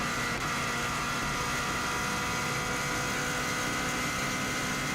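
A turbocharged 2016 Subaru WRX STI engine droning at high, steady revs throughout, loud and continuous with a constant whining tone, on the Isle of Man TT course.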